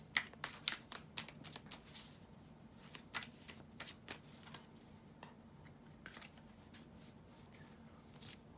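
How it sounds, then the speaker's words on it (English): Tarot cards being shuffled in quick riffling bursts, a flurry of crisp snaps at first, then sparser taps and flicks, fairly quiet with no talking. "to shuffle the tarot cards"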